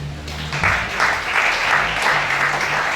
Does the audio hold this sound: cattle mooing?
no